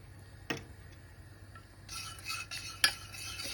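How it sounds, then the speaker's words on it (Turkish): Quiet stirring of a yogurt and lemon sauce in a pot for Turkish rice meatballs, with a couple of soft spoon clicks against the side and gentle scraping, alone without talk. "Bu şekilde ikişer kaşık ikişer kaşık alıp karıştıracaksınız"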